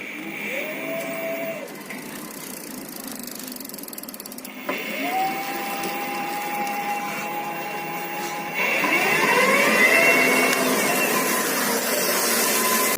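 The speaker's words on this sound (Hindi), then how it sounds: "बाइक चालू करने के बाद जैसे ही एक्सीलेटर लेते हैं तो हमारी बाइक चलने लगती है।" A Hero Honda Deluxe motorcycle converted to electric power runs, its motor giving a rising whine that climbs in pitch with each throttle application, steady and close, with no engine rumble.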